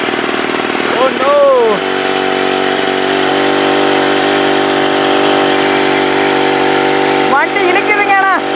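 A motorized bike with a 2-stroke 35cc engine runs loud and close, holding a steady buzzing drone with brief revving swells near the start and end. Voices talk over the engine.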